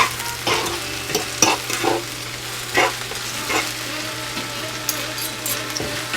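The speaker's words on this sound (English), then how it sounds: "Then I'm going to stir fry that in." Chicken breast with spinach, cherries, onion and coconut stir-fried in a pan, giving a steady sizzle broken by repeated scraping stirs and clacks of a utensil, close and fairly loud with no talking.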